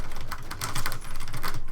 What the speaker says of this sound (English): the keyboard mashing that's happening at this moment?